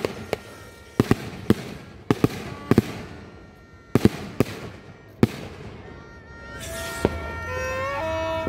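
New Year fireworks bursting in a series of sharp, loud cracks and bangs, followed by rising whistling rockets near the end, outdoors with some distant crowd noise.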